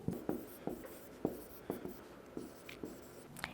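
Pen strokes scratching on paper while genetics cross notation is written out by hand, a series of short close taps and scrapes at an uneven rhythm, with no voices.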